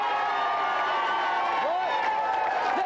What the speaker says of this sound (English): Give them a cheer.